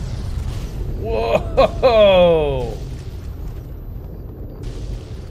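A mansion blows up in the video game Fallout 3 with a short burst of low rumbling boom, mostly covered by a man's loud exclamation.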